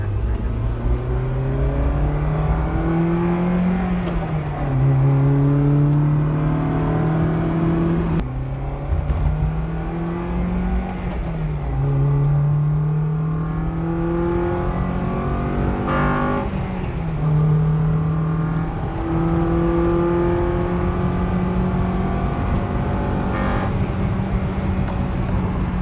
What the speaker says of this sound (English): I could hear like a little bit more of that VTEC kicking in once it hits high RPM